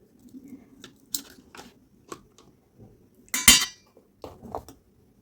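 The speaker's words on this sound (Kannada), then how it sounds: "ಈ ಮೊಸರನ್ನ ಒಂದು ಪೊಗಣೆಗೆ ಹಾಕೋಣಂತ." Thick, fresh Basavadara curd being spooned into a bowl, heard as scattered soft scrapes, clinks and wet plops of a metal spoon against the dish, close by with quiet gaps, one sharper clatter partway through.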